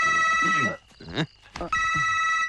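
A telephone bell rings with a bright, repeating electronic trill, loud and close, interrupted midway, with someone speaking over and between the rings in a movie scene.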